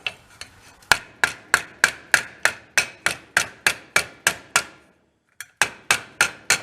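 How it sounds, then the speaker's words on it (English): A hammer taps a steel repair panel held in a vise for a 1965 Ford, a steady run of about twenty crisp metallic strikes with ringing decay, a short pause, then several more taps. "if we just kind of tap on the center, so you can get it to roll a little"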